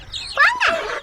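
A hen with chicks gives a couple of quick, close clucking calls, one short burst after another, alone with faint background.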